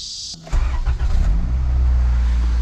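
A Honda Integra engine cranks briefly and catches, then settles into a loud, steady, low idle rumble close by after a short burst of starter whir.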